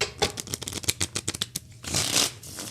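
A deck of playing cards is shuffled by hand: a quick run of crisp riffling flutters followed by a denser, whooshing cascade as the cards settle, close and clear.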